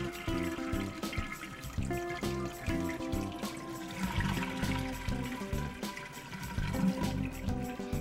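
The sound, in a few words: toilet being flushed to empty the tank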